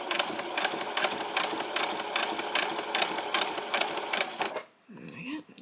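A sewing machine stitches a white top in rapid bursts of rhythmic needle clatter over about four and a half seconds, close by, then stops abruptly; a voice speaks briefly after it.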